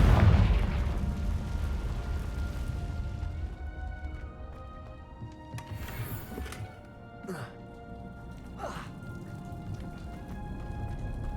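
A Confringo spell explodes in Hogwarts Legacy on PS5 with a loud, broadband burst at the start that decays over a couple of seconds. Fainter bursts and game noise follow, and a voice speaks over parts of it.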